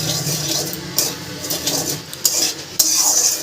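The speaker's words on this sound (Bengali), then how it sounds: "খোলা কড়াইতে সুজিটা আমি ভেজে নেব।" Dry semolina roasts in an open wok with no ghee or oil, stirred with a metal spoon that scrapes and clinks against the pan in uneven strokes, close and fairly loud, with no voices.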